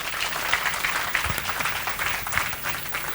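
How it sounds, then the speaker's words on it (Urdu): An audience at a kavi sammelan poetry gathering applauds loudly, dense steady clapping that fills the whole stretch without pause. "ایک بار تالیاں ان کے لیے زوردار بجائیں۔"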